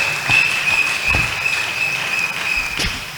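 A church congregation applauds at a workers' meeting, loud close clapping with a few sharp thuds and taps standing out, while a high steady tone hums underneath.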